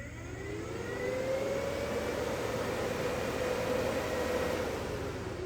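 An electric radiator cooling fan spinning up after being wired to a hot wire and ground, a rising whoosh that settles into a steady close whirring drone with a faint tonal whine.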